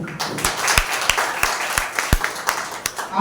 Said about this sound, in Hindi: परमेश्वर के आदर के लिए एक जोरदार ताली बजाते हैं